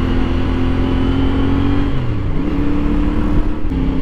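CF Moto 450 SR motorcycle engine droning on a highway, a loud, steady mid-pitched hum with rising and falling rev tones and wind rush throughout.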